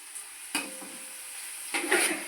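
Onion and chilli are stirred into oil in a frying pan, giving a soft steady sizzle with two bursts of scraping and clatter as they are mixed.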